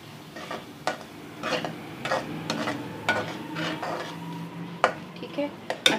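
A spoon scrapes and clinks in a pan as tomato-onion masala is stirred into a spicy vegetable curry. The strokes are soft, irregular and intermittent, with a faint sizzle underneath.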